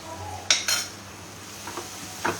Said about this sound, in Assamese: মছলাখিনি গোটেইখিনি দি ভালদৰে মিলাই লওঁ